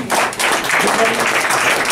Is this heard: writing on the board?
no